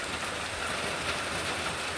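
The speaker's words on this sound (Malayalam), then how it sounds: "മഴ ഒന്നുകൂടെ ഉറച്ച് പെയ്യാൻ തുടങ്ങിയിട്ടുണ്ട്" Heavy rain roars steadily in an unbroken hiss, close and fairly loud, with no voices.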